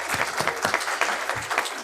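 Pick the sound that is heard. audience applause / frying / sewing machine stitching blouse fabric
audience applause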